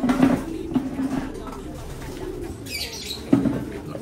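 Imported pure-line SBR racing pigeons in a loft give soft, low cooing in a few short bursts, with light wing flutter and background rustle.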